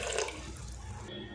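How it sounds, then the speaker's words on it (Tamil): Water poured from a container into a pressure cooker holding small peeled, cut potato pieces, a short steady splashing pour that carries on briefly at moderate level. "இது கூடவே 2 கப் அளவுக்கு தண்ணி"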